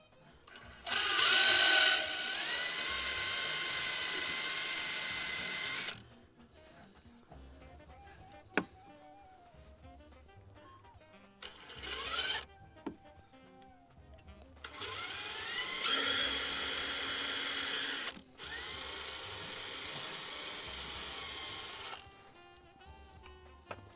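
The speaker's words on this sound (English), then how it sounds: "then we take our drill and go in the gap" A power drill whirs loudly in several long bursts, stopping and starting, drilling into a gap on an Audi A4 headlight during a level sensor repair, with quieter clicks and handling noises between runs.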